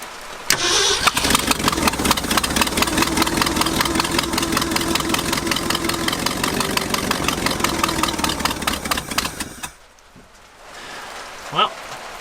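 An old truck abandoned for 14 years cranks and fires up, then runs at a loud, rough idle for several seconds before cutting off, leaving quiet background with faint sounds.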